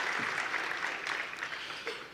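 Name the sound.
audience applause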